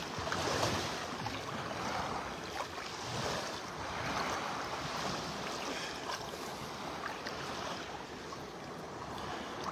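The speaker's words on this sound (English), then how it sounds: "Water is fairly calm. We're at high tide right now." Calm, flat Gulf of Mexico waves at high tide on a beach in North Naples, Florida, with a soft, steady wash of surf mixed with gentle wind rumble and no talking.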